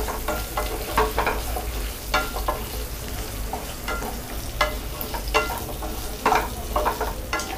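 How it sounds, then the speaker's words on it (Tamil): Small onions sauté in a pan for a country chicken curry, with a constant sizzle and repeated scraping stirs of a spatula in an uneven rhythm. "இப்போ சின்ன வெங்காயம். இது வந்து டிரான்ஸ்பரண்ட் ஆகிற வரைக்கும் நம்ம வதக்கணும்."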